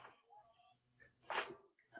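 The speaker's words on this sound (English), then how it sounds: "There's so much seasoning it got me sneezing." A single sharp sneeze bursts out near the mic, set off by heavy chili seasoning, between quieter stretches of soft background sound.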